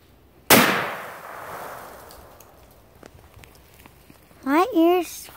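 A single 20 gauge shotgun fires outdoors, a sharp loud blast that rings out and decays over a couple of seconds, followed by a person talking briefly near the end.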